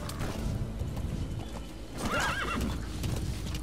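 A horse in the video game Metal Gear Solid V gallops with rapid clip-clopping hooves, then lets out a loud neigh partway through before the hoofbeats carry on.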